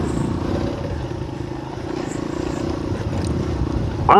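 A Monarch Axis 125 motorcycle rides along a rural road toward a dam, its steady engine drone and road rumble continuous and close, with a brief clatter at the very end.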